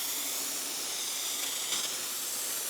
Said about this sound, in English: we're gonna get our sprayer. Pump sprayer, and this has got the rinseless wash in it, Pan's rinseless wash